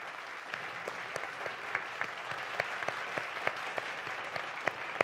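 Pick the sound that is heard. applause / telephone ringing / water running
applause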